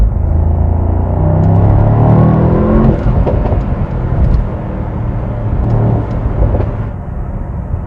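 A 2022 Mercedes SL 63 AMG drives on the Autobahn at night with a loud, close cabin roar of engine and road noise that swells under acceleration and then eases into a steady cruise.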